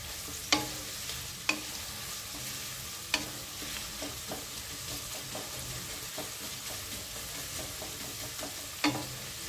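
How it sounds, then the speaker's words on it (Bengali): Onions frying with a little salt in a pan while making pav bhaji, giving a steady close sizzle with occasional sharp clicks of a spoon stirring against the pan. "পেঁয়াজটা তাড়াতাড়ি ভাজা হয়ে যাওয়ার জন্য অল্প পরিমাণ নুন দিয়ে দিলাম।"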